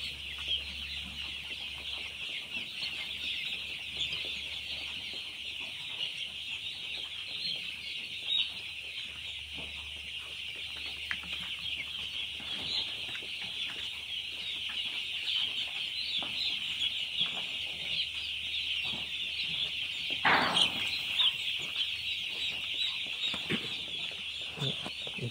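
A crowd of broiler chicks chirps continuously in a brooder. The chirping is a dense, high, steady chorus heard close up throughout, with a few louder peeps standing out and faint background noise beneath.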